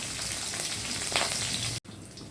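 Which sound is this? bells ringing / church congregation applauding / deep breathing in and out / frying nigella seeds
frying nigella seeds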